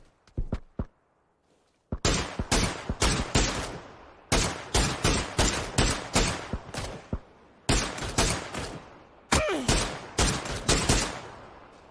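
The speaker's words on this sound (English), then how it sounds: "Someone else shooting us from the tree." Bursts of gunfire in a squad battle royale video game on Xbox One, loud rapid volleys of sharp shots in several clusters with brief gaps, one enemy firing from a tree.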